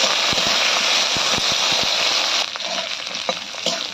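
Cauliflower frying in hot oil tempered with dried chilli, bay leaf and whole cumin, a dense close sizzle with sharp crackles and pops, quieting slightly partway through.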